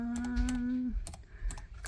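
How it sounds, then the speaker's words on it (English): Computer keys clack in quick irregular bursts, close and crisp, while a steady electronic tone hums underneath for the first half. "So you type in bronchitis, hit enter"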